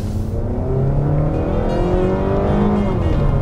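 A 2019 Mazda3 with all-wheel drive accelerating at full throttle, its engine note climbing steadily and loudly from inside the car with no talk.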